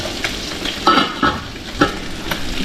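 Ginger and onion sizzle and fry in a pan nearby, with a steady crackle broken by several scraping stirs of a utensil.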